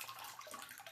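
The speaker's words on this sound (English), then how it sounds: "I give it a good water." Water pours briefly and faintly into an orchid's glazed pot.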